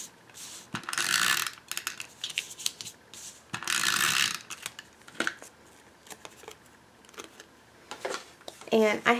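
A Stampin' Up! Snail adhesive roller run along the edges of paper, giving repeated short ratcheting clicks in bursts, with pauses and light handling noises between strokes.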